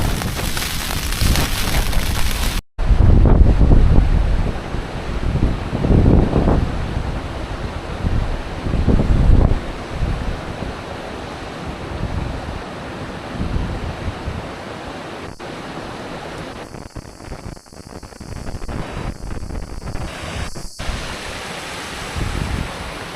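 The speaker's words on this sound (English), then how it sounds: "Wind's really got up." Strong wind blowing outdoors at a wild camp, a loud, gusty roar buffeting the microphone close up, easing to a steadier, lower rush with some brief dropouts.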